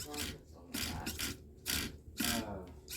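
Venom Creeper RC rock crawler runs in repeated short bursts of whirring gear and motor noise, close by, with pauses between each burst.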